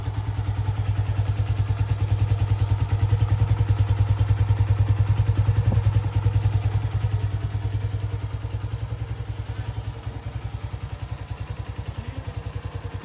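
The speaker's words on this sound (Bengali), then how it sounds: "আপনারা নিশ্চয়ই ভিডিওতে ক্লিয়ার শুনতে পাচ্ছেন বাইকের সাউন্ডের অবস্থা" A black, modified Suzuki Gixxer 155 motorcycle idles steadily close by, a continuous low, even engine thrum with a rapid pulsing beat that holds for the whole stretch and eases slightly in the final seconds.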